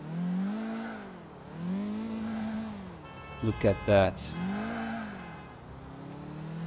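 A car driven in the video game GTA IV, its engine repeatedly revving up and dropping back in smooth, looping surges, with a brief burst of sharper sounds in the middle and someone speaking briefly.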